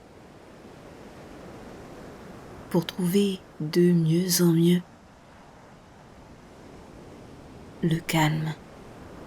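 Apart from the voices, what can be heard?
sea waves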